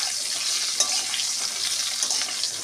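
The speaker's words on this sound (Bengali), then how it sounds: "আলুটা ভাজার সময় আলুটাকে আমি লাল করে ভেজে নেবো" Potatoes for a fish biryani fry in hot oil, a steady close sizzle crackling evenly throughout with a few brief louder spits, no voices over it.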